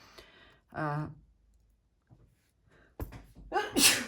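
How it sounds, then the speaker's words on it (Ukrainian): A woman sneezes sharply near the end, preceded by short breathy vocal sounds and quiet pauses, close and fairly soft overall. "Що це я чихаю вже майже на кожному відео?"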